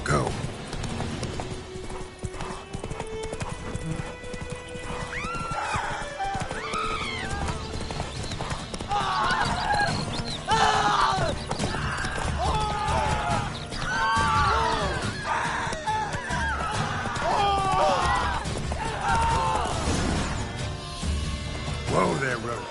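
Roach, a horse in the video game Witcher 3, gallops with a rapid clip-clop of hooves and gives repeated neighs and whinnies, mixed with game voices and other sounds.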